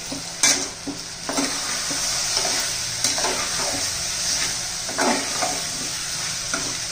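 Homemade spice masala with turmeric being stirred and sautéed in a pan for masale bhat, a steady close sizzle with scraping stir strokes throughout.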